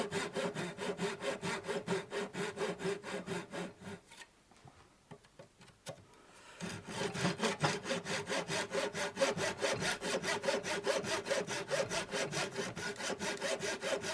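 Hand sawing through wood for a woodturning star project: steady, rhythmic back-and-forth rasping strokes, close and clear, pausing briefly midway before resuming at the same even pace.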